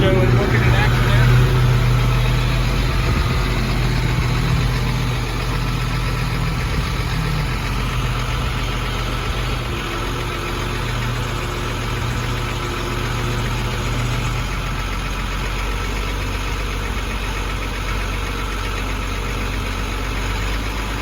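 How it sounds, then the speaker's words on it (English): Ford F600 turbo diesel dump truck idling with its power takeoff engaged, a loud, steady low rumble throughout with a slight rise in revs near the start. "So it's good to give a little throttle when you get it up, get that PTO going."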